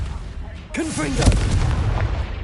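A Confringo fire spell goes off in the Hogwarts Legacy video game as a single booming blast with swooping, crackling tails, rising abruptly out of a low rumble and staying loud and dense afterward.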